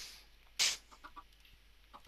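Chickens in the Minecraft-style game Chicken Strike, spawned from dispensers, give short faint clucks, with one sharp louder burst partway through and soft scattered clucking around it.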